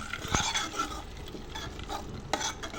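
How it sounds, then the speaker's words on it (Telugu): A spoon stirs fried tempering into spinach dal (palakura pappu) in a pot, a soft steady scraping and gentle sizzle with a couple of light clinks, close and quiet. "పప్పులోకి ట్రాన్స్ఫర్ చేసేసుకొని మంచిగా కలిపేసుకోవాలి"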